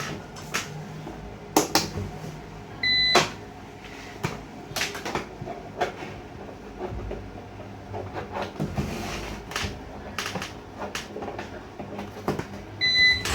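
A UPS under an output test gives short high electronic beeps, one early and one at the end, among close clicks, clunks and handling knocks.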